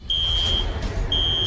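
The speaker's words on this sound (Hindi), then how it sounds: "लेकिन अलार्म क्यों ऑन है?" A cartoon alarm beeps as a steady high electronic tone, sounding for about half a second, cutting out briefly, then resuming over a dense noisy background.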